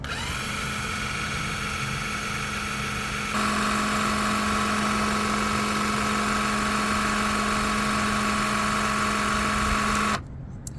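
A VEVOR electric car jack lowers a car with a steady motorized whine. The pitch steps up partway through, and the sound runs continuously before cutting off abruptly near the end.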